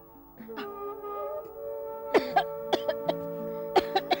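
A woman's series of short, sharp coughs comes in quick bursts after a drawn-out, moaning voice, with a tonal musical background, in a Hindi TV drama.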